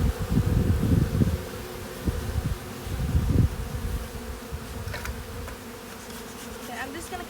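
Honeybees buzz around a nuc hive frame, a steady close hum with louder swells early on that thins toward the end, with a few faint clicks and handling noises.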